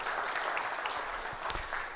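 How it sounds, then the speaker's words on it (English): Conference audience applauding a business event's organisers and sponsors, a dense steady wash of clapping from a crowd lasting the whole two seconds. "so give them a round of applause for that"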